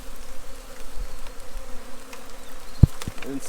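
Honey bees buzz steadily around a hive outdoors, a dense close drone of many insects with a few sharp knocks near the end.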